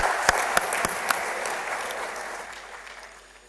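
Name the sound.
applause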